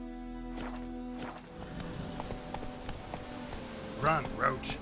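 Roach the horse gallops in The Witcher 3, rapid hoof beats clattering close by over a low game ambience, with a brief whinny-like call rising near the end.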